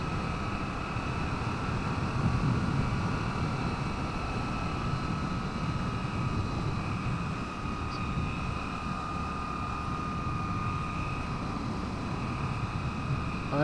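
Moto Guzzi V7 motorcycle cruising at 60 in fourth gear, a steady engine drone under constant rushing wind, close and loud without letup.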